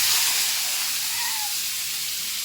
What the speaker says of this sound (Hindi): आलू फ्राई कर रही हूँ